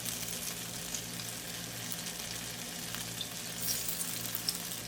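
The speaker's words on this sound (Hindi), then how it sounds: "एक साइड से अच्छी तरह से गोल्डन कर लें, फ्राई कर लें।" Boneless mutton frying in butter in a pan over a medium-high flame, a steady dense sizzle crackling throughout at close range with no talk.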